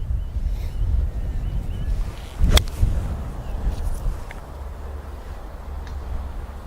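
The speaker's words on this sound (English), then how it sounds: "Now that was a huge gust just as I hit it" A strong wind gust buffets the microphone outdoors on a golf driving range, a low rumbling roar throughout with a sharp club strike on the ball partway through.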